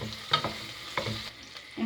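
Onions softening in hot oil in a pan, scraped and broken apart with a spoon, give a soft sizzle under a few short scraping knocks of the spoon, close and fairly quiet.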